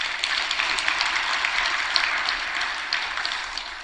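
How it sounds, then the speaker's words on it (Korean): A church congregation at Seonam Church in Korea applauds together: a dense, even wash of many hands clapping at moderate loudness, sustained without a break. "박수 한번 쳐줘요."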